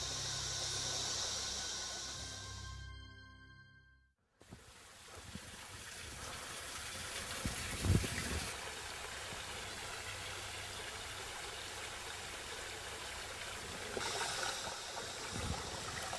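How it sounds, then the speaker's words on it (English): Water of a small stream flows in a steady, broadband rushing wash outdoors, continuous and moderately loud after an abrupt cut from a tonal passage, with no voices. "The energy of flow patterns in water,"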